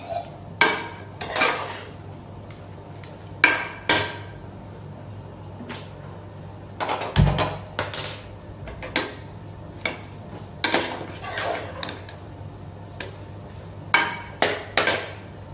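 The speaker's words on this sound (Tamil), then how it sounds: "இந்த பாலும் அரிசியும் நல்லா வெந்துடுச்சு இது நல்லா மேஷ் பண்ணிக்கலாம்" Cooked rice and milk being mashed in a pot for sweet kalkandu pongal, giving a series of irregular clanks and scraping knocks of a utensil against the metal pot, close and fairly loud, without speech.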